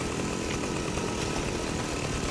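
A chainsaw revving in a video game, a dense, harsh, buzzing engine roar held continuously and loud at close range, with no talking.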